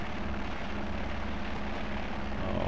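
Steady propeller aircraft engine drone fills the clip, loud and constant, as a small plane comes in.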